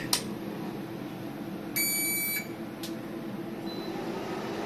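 A 48V-to-230V car power inverter sounds its overload alarm: one steady high electronic beep lasting about half a second, plus a couple of brief clicks, over a constant low hum, with no speech.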